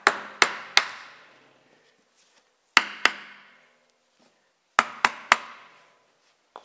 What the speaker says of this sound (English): So now we'll just tap the casing around here with a block of wood.